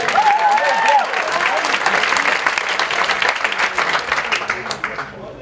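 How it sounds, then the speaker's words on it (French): A conference audience applauding steadily, dense clapping that keeps going for several seconds, with a brief French voice at the start. "On y va, on applaudit encore un petit peu."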